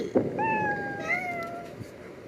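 A cat in the video game Nightmare gives a clear, drawn-out meow that glides in pitch, followed by a fainter second mew, against a soft background.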